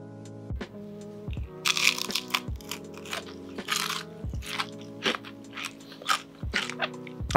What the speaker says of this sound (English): I hope you can hear how crunchy it is.